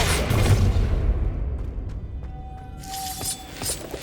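A Depulso spell cast in Hogwarts Legacy lands with a loud shattering burst that decays into a lingering rumble, then a faint tonal shimmer and a few soft clinks as quieter magical sparkle returns near the end.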